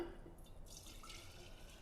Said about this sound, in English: we're going to put it back into our jar